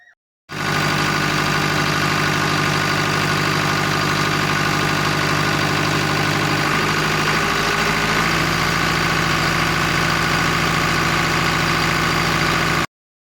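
A tractor fitted with a fibre hood idles loudly inside a farm shed, a steady close rumbling drone that starts abruptly and holds constant until it cuts off at the end.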